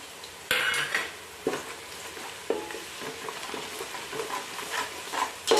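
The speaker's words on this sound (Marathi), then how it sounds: "छानपैकी असे हलवून घ्यायचे" Spices including fennel seeds stirred in a pan with a spoon for spicy poha chivda, with repeated metallic scrapes and taps against the pan over a soft sizzle and no talking.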